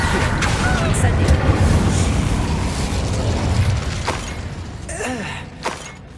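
Spell blasts such as Confringo and Expulso in the Hogwarts Legacy video game: a few sharp bursts and booms rise out of a dense, busy game soundscape, with a cluster of pops near the end.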